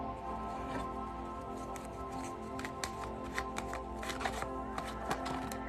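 Tarot cards are shuffled by hand close up, making a continuous soft patter broken by sharper riffling snaps toward the end, over a low steady background hum.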